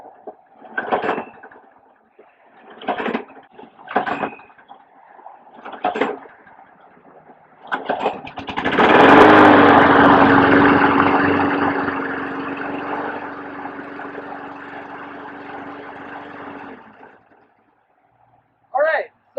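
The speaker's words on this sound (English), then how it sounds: "This will allow me to start the engine." A lawn mower engine cranks, catches and runs with a steady buzzing drone for several seconds before cutting out, with short bursts of someone talking before it starts.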